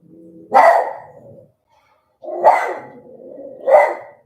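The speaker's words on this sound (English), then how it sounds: "My little guard dog." A small dog barks in three separate bursts, loud and close, each bark with a brief trailing growl-like tail, against an otherwise quiet indoor background.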